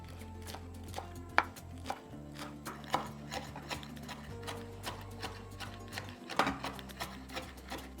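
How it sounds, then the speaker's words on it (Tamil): A knife finely chops amaranth greens rapidly and steadily on a cutting board, crisp repeated taps over several seconds, fairly quiet with a low background hum. "இந்த கீரையை நம்ம பொடியாக நறுக்கி எடுத்துக்கலாங்க"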